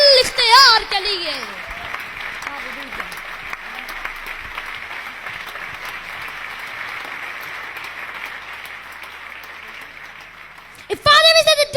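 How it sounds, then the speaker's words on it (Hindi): Loud, sustained applause from a church congregation fills the room for roughly ten seconds, framed by a preacher's voice speaking at the start and again at the end. "जोरदार तालियां बजाइए उसके इख्तियार के लिए"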